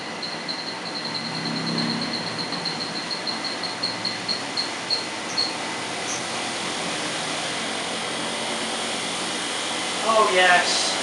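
A 1986 Hotpoint Supermatic Plus 9400 twin tub washing machine spins at speed, a steady loud mechanical whir with a faint rhythmic ticking and brief clatter near the end, while someone talks over it.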